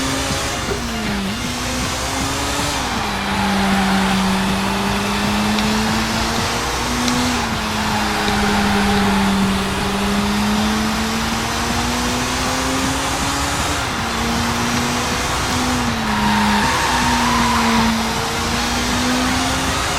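A race car engine in Sega GT drones steadily with its pitch rising and dipping through gear shifts and braking, a continuous loud whine with no clear tire squeal standing out.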